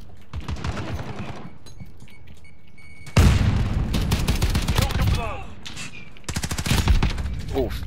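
Rapid MP5 submachine gun bursts in a video game shootout, loud and close, with several sharp volleys and booming impacts over a steady game backdrop.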